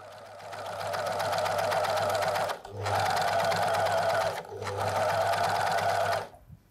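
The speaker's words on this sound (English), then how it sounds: "It's an overlock. It can use four threads." A four-thread overlock machine sews knit fabric in three loud, steady runs of whirring stitching, close by, separated by short pauses.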